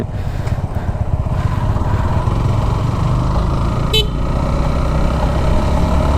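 A motorcycle ridden over a broken, rough road on the way from Faridpur toward the Padma bridge makes a loud, constant engine and wind rumble. A brief horn toot cuts through midway.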